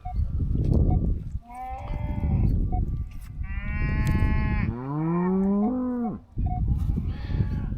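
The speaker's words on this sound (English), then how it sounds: "Getting heckled here by the cows." Several cows moo loudly and close by in a field, long drawn-out calls overlapping one another with short pauses between, some rising in pitch, no talking.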